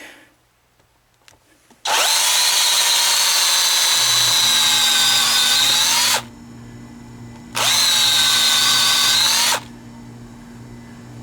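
A power drill whirs loudly and steadily through a wooden chair leg for about four seconds, stops, then runs again for two more seconds with a low hum between bursts.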